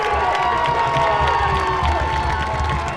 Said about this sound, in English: Crowd is hyped up.